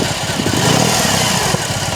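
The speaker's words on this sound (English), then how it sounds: "the bike sways from left to right while you turn the throttle" BMW R18 First Edition motorcycle engine running loud and close with throttle blips, a deep pulsing boxer rumble that stays steady throughout.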